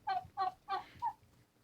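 Heritage turkeys at a turkey conservancy call in four short, nasal gobbling clucks at an even pace, moderately close and clear with nothing else behind them.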